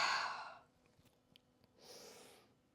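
Deep breaths during a beginner yoga session: a loud, breathy exhale opens, then a quiet pause with faint clicks, and a softer drawn breath rises and fades again.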